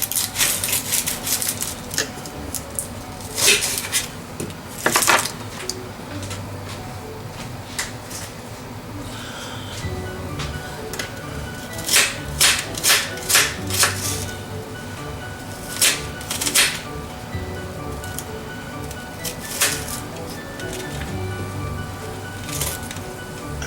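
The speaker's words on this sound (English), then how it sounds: "Also, we need to cut up some onion." Onion being chopped for a creamy mushroom chicken and wild rice soup, knife clicks on a board in irregular bursts over steady kitchen background, moderately close.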